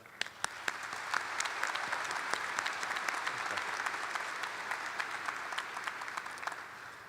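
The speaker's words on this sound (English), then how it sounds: "So please, a round of applause for Mr. Fletcher." A graduation audience at Francis Howell North High School applauds a departing staff member, steady, fairly distant clapping from a large crowd that holds evenly throughout.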